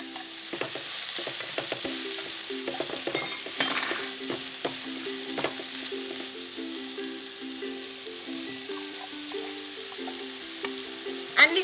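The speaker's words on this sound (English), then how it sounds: "you can fry up your ackee any way you like it" Ackee fries in a pan with scallion, onions and Scotch bonnet pepper, giving a steady soft sizzle broken by scraping stirs and spatula clinks throughout, at moderate closeness with no talking.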